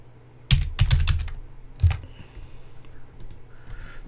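Keys clack on a computer keyboard during a PC repair session: a quick cluster of loud taps, a pause, another strike, then softer scattered clicks, all close and without speech.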